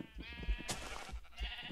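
A sheep in a video game bleats in a few short, wavering calls, faint and low in level, with small thumps and clicks of gameplay around them.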